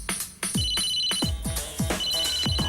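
A mobile phone ringtone plays loud and close, a repeating melodic pattern of bright, chiming notes struck in a steady rhythm, with no voices over it.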